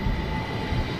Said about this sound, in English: Right, there's the train over here.